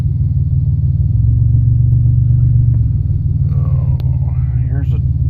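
Strong wind buffets a parked car, a heavy low rumble roaring steadily outside the cabin, with a voice starting up briefly near the end.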